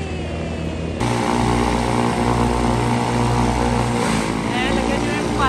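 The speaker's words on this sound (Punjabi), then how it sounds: "ਆਵਾਜ਼ ਆ ਚੱਲ ਪਿਆ ਜਹਾਜ" A small propeller airplane's engine starts up and runs loud and close, a steady droning buzz with a jump in intensity after the first second, while people talk nearby.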